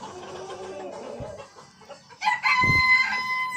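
Roosters crowing with hen-like clucking in a farmyard poultry run, a loud close crow rising after softer background clucks.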